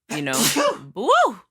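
A single sharp sneeze bursts out close, with a breathy intake leading into a voiced, pitch-swooping release, alone and over in about a second and a half.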